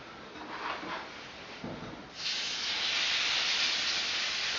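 Beef steak hits a hot pan with a sudden loud hiss after a few softer handling sounds, then holds a steady, close, bright sizzle to the end, with no one speaking.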